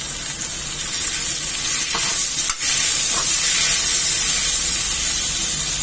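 Onion and tomato sauté in a pan, a constant close sizzle with occasional stirring scrapes and one sharp knock midway, no talking.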